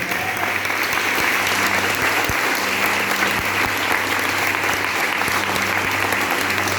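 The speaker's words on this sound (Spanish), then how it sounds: "Dale un fuerte aplauso al Señor." A church congregation at an anniversary service claps strongly and continuously, a dense, loud wash of applause that holds steady throughout, with faint voices beneath.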